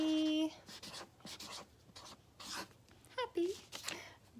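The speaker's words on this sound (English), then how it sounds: "So I'm going to write" Pen strokes scratch across a birthday card in short, quiet bursts, close by, with a few soft vocal sounds between the strokes.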